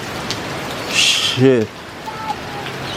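Steady rain from a passing storm in Casino, New South Wales, Australia, falls as a broad hiss throughout, with a voice briefly speaking over it midway.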